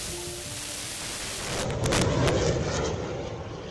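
A HIMARS rocket artillery launcher fires during a military exercise: a deep, rumbling boom swells and rolls on for a couple of seconds over a steady broadband roar, loud and fairly distant, with no voices.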